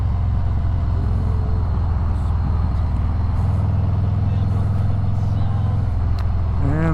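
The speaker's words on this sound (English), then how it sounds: "And this traffic is nuts." Busy road traffic passes around a 2024 Harley Davidson Road Glide on the move. Engines and tires rumble steadily and loudly under heavy wind roar, with a vehicle swelling past midway and a short squeal right at the end.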